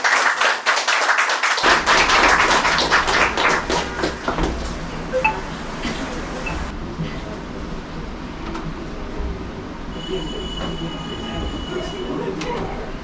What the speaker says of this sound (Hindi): जोरदार तालियां जय सोमनाथ जी के लिए।